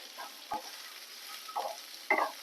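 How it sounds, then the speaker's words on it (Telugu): Crushed garlic stirred into bitter gourd and onions frying on a medium flame, quiet sizzling under a few soft scrapes of a spoon against the pan. "ఇప్పుడు నాలుగు వెల్లుల్లి రెబ్బల్ని దంచి వేసుకొని ఒకసారి కలుపుకోవాలి"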